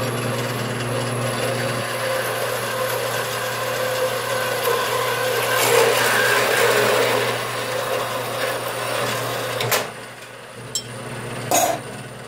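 A power saw cuts steadily for about ten seconds with a continuous loud buzz and grinding texture, close by, followed by a couple of sharp knocks.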